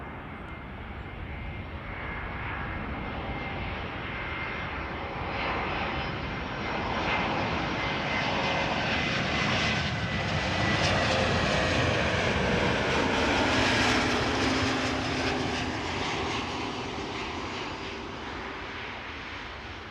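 Cargolux Boeing 747 jet engines roar steadily throughout, a loud continuous broadband rumble that swells slightly mid-way as the aircraft passes, with no talk over it.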